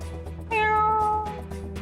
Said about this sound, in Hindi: आपने बिल्ली की आवाज सुनी थी ना?